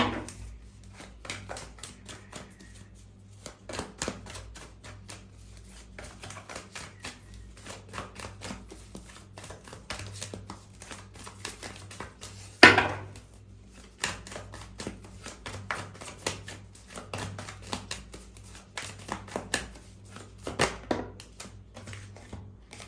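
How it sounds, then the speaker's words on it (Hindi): Tarot cards are shuffled by hand up close, making quiet, irregular clicks and flutters with one sharper snap partway through. "चलिए मैं और शफल करती हूँ, बाकी के क्लैरिफिकेशन कार्ड भी हम ले लेते हैं।"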